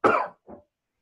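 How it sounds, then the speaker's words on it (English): A single person coughs twice, close and fairly loud: a strong first burst followed by a shorter, softer one, then silence. "I didn't want my cough to go on you."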